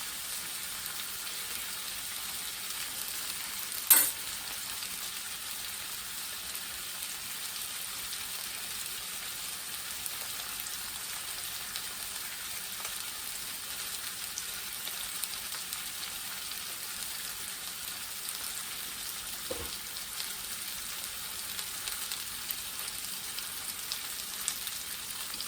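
Small pieces of Renegade Butcher sausage sizzle steadily in a hot skillet started with cold grease, a soft continuous hiss with one sharp click early on and no talking.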